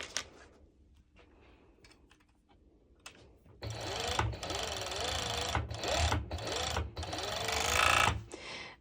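A sewing machine runs in a steady, loud burst of stitching through bikini pieces, starting after a few quiet seconds and stopping near the end.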